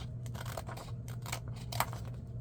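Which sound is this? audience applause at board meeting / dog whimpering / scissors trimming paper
scissors trimming paper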